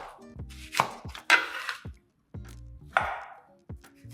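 A knife chops half an onion on a cutting board in a home kitchen, with a few crisp, uneven knocks, some close together and one after a short pause. No one speaks.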